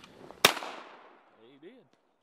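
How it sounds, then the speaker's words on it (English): A single loud shotgun blast goes off while duck hunting and rolls away in a long fading echo across open ground, followed by faint duck calls. "Go ahead and shoot that one."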